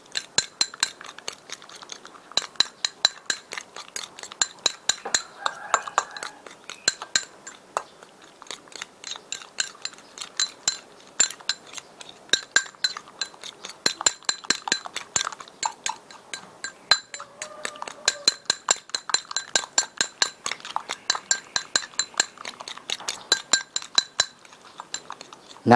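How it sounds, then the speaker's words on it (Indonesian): Eggs are beaten with a fork in a bowl, producing rapid bursts of light clinking strokes against the bowl, steady and close, continuing with brief pauses throughout. "Telur kita pecahkan, kita aduk sampai dia merata. Saya aduk dengan garpu lebih bagus dia."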